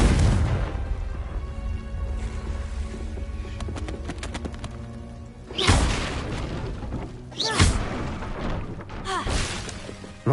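In Hogwarts Legacy, a Confringo explosive spell fires, with two sharp booming blasts a couple of seconds apart rising above a murky, rumbling game ambience with a humming musical backdrop.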